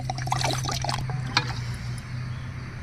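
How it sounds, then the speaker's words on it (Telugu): Water poured from a glass onto rice for fried rice, a brief close splashing trickle that quickly fades into quieter background noise. "ఇదిగోండి కొంచెం వెల్తిగా 3 గ్లాసులు నీళ్ళు పోస్తున్నాను అనమాట"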